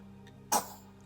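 A single sharp sneeze bursts out once, close and fairly loud, over a quiet indoor background with a low steady hum.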